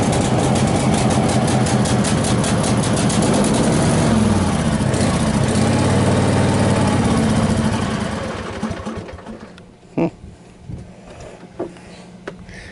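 A Cub Cadet RZT50 zero-turn mower engine cold-starts in spring after sitting idle for six months. It runs loud and steady for about eight seconds, then dies away, followed by a few faint clicks.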